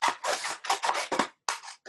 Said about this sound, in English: Then you take your scissors,